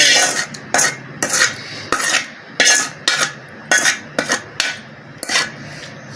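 Mango avakaya pickle mixed in a bowl, heard as a close, loud run of rhythmic scraping and clattering strokes of a utensil against the dish, about ten sweeps with short pauses between them.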